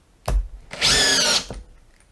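A power drill drives a stainless steel SPAX screw into wood in two bursts, a short jolt and then a sustained loud whirring grind close by, with no talking.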